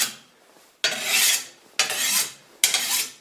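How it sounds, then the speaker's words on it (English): A sickle blade being sharpened with a file on a workbench, three long rasping strokes in an even rhythm with short pauses between, close and fairly loud. "you can sharpen your sickle like that"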